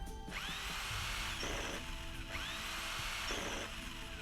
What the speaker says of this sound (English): I need the cordless drill.